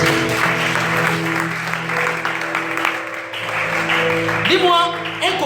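Church congregation applauding the Lord in worship, a steady wash of clapping mixed with sustained music and voices throughout, loud and continuous.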